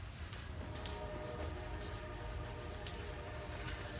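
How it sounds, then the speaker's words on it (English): A low, steady rumble of a train far off, continuous and faint under a broad hiss of ambient noise. "you can hear the train in the distance."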